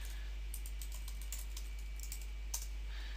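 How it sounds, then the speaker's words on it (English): Computer keyboard typing while entering a label in flowchart software: scattered quiet key clicks in short irregular bursts over a steady low hum, with no talking. "I'm typing the label."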